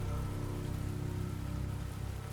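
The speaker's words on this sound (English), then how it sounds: "The sound of the rain against the roof was oddly calming" Steady rain patters on a roof in a dense, even hiss with a low rumble beneath, continuous and moderately quiet with no voices.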